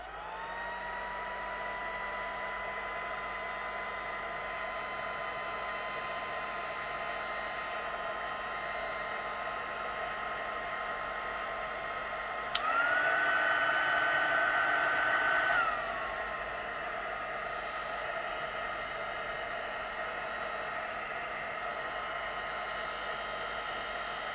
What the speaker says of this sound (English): I think I'll get the heat gun in for this bit. I'm just going to heat gun this bit a wee bit.